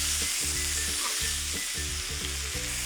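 Pork and cabbage fry in a frying pan with a steady, close sizzle and crackle, with occasional scraping stirs; no voices.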